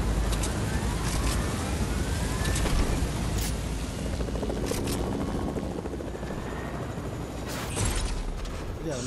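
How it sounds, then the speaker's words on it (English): A helicopter in a video game: its rotor chops steadily and loudly throughout, with a few sharp high bursts cutting through the constant thrumming drone. "there's another helicopter."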